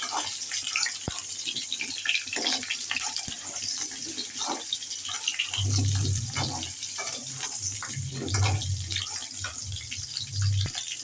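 Potatoes being stirred in hot oil for a home-style soya-bean and potato biryani, a steady hiss and watery sizzle with scraping and low stirring thumps, growing heavier partway through.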